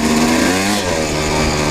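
A Kawasaki KX 250 two-stroke dirt bike engine runs loud and close, a steady buzzing drone with a slight shift in pitch partway through, no voices over it.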